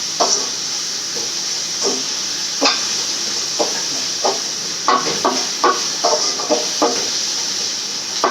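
Fenugreek leaves stir-frying in groundnut oil in a pan, a steady soft sizzle with repeated scraping strokes of a spoon at an uneven rhythm, close by and alone.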